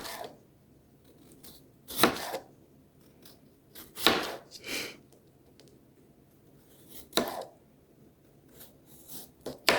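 A sharp knife slices through potatoes in a series of crisp, close cuts, each a short bright crunch spaced a couple of seconds apart, with quiet scraping and rustling between the strokes.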